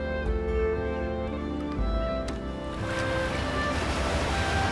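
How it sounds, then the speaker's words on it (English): Ocean surf in the video game Unravel, with waves washing steadily and loudly throughout, a rushing swell that thickens into broader foamy noise in the second half, with no talk over it. "I do like the way they've made the waves in this game."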